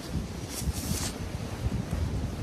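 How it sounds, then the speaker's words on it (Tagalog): Strong wind buffets the microphone in a continuous low roar with gusty rumbles, loud and close, no voices. "Tingnan nyo, ang lakas ng hangin ba."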